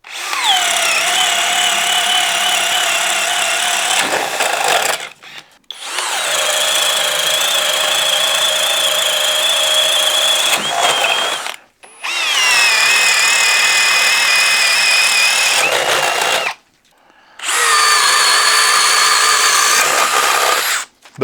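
A Bosch drill fitted with a 7/8-inch Bosch Daredevil bit boring through wood in four long, loud, close runs, each with a whining motor and grinding cut, separated by short pauses.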